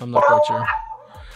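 Several dogs bark in short, loud bursts close by, with yipping and whimpering, fading toward the end.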